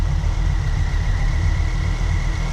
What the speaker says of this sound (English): Oh, it was misfiring.